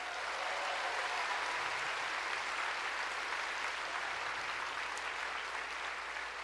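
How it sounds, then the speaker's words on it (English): Sustained, steady applause from an audience filling a hall at a library association opening ceremony, dense and even throughout with no voices standing out. "So can we give them one more round of applause"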